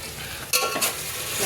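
Ginger garlic paste dropped into hot oil in a home kitchen pan, a steady sizzle that flares with two sharp bursts as the paste hits, no talking.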